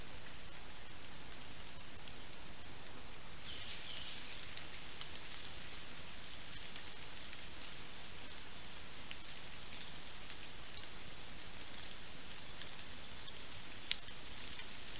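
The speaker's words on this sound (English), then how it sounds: "it's still raining just a little bit" Steady soft patter of light rain, a constant wash of fine hiss with no voices, continuing evenly throughout.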